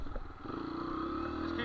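A dirt bike engine revs at close range in a steady, throaty drone that rises slightly in pitch over a moment, with a voice talking faintly underneath.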